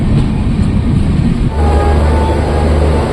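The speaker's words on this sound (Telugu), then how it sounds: "గద్వాల్ రైల్వే స్టేషన్లో ఇప్పుడు జైపూర్ ఎక్స్ప్రెస్ ఎక్కి" The Jaipur Express at Gadwal railway station, heard up close as a loud rumbling train with rolling wheel noise that deepens into a steady low drone midway, with a faint tone above it.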